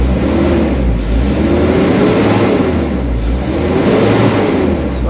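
A Nissan NV350 Urban Premium van with low power and throttle delay revs repeatedly, the engine rising and falling in slow waves over a constant low, loud rumble.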